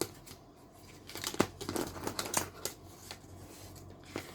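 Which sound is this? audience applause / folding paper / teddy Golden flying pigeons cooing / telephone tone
folding paper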